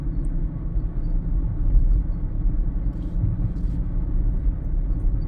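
Kia Sportage hybrid driving on electric power, heard as a steady low road rumble inside the cabin, with no engine note.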